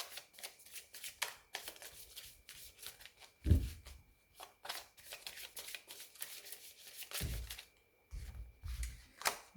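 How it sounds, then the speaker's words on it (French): Tarot cards picked up and handled on a table, a series of close papery flicks, slides and soft taps coming in irregular bursts with brief quiet gaps and a couple of duller knocks. "On va prendre les 9 cartes du février."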